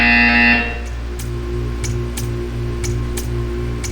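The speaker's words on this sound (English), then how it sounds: "You will hear a buzzer. When you hear the buzzer, stare at the art." Buzzer in the video game Portal 2, a loud harsh tone sounding alone for about half a second, followed by quiet game ambience with soft regular ticks.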